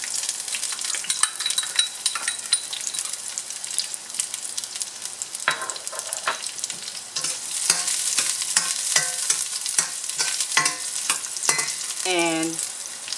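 Garlic sizzles in hot oil in a pan while being stirred, a steady close frying hiss broken by scraping and clinking of a utensil against the pan, no voices.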